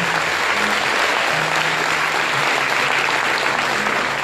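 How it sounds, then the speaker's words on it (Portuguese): Congregation in a Catholic church applauding during a Christ the King solemnity, a loud, sustained wash of clapping from many hands with no talk over it. "Dá uma salva de palmas para o Rei dos Reis, o Senhor Jesus Cristo."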